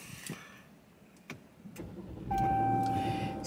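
Push-button start of a car, a brief cranking catch followed by the engine settling into a steady idle hum, preceded by a few faint clicks inside the cabin.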